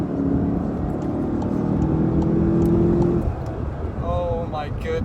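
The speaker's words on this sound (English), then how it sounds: "And the downshifts, you can hear the downshifts too." A 2019 Volkswagen Jetta GLI 35th Anniversary Edition engine drones loudly and steadily under cabin noise, then its tone drops after about three seconds as it downshifts, with rising harmonic sweeps near the end as it accelerates again.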